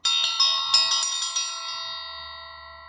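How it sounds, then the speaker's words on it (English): A small handheld bell rings in a quick series of about eight bright strikes, then its clear metallic tone rings on and fades slowly in a quiet room. "I'm going to go ahead and ring this beautiful bell that was recently gifted to me."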